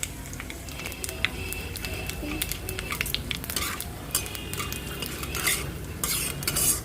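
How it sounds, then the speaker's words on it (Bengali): Steady sizzling of panch phoron spices with onion and bay leaf in hot oil in a kadai, with occasional scraping and clinks of a utensil against the pan, close and continuous. "আবার কড়াইতে তেল দিয়ে দিলাম এবার এর মধ্যে আমি দিয়ে দেবো হচ্ছে পাঁচ ফোড়ন"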